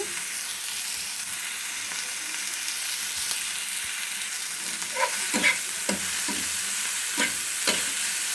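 Dried shrimp frying in a pan gives a steady, close hiss of oil, with several spoon scrapes and clinks bunched in the second half and nobody talking.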